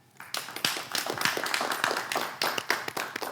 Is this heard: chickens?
no